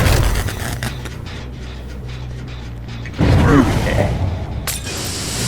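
Mechanical ratcheting and clanking of a generator under repair in the Dead by Daylight video game, steady and close through the clip, with a louder burst of game sounds partway through.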